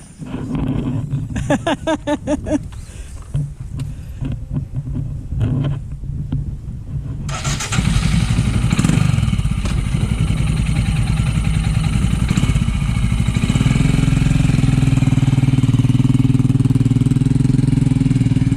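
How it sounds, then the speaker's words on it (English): Royal Enfield Himalayan motorcycle, a small 24-horsepower single, is ridden in loud throttle blips at first, then pulls into a sustained, close, steady engine roar that holds for the remainder, with no talking over it. "Dave, putting the bike through its paces."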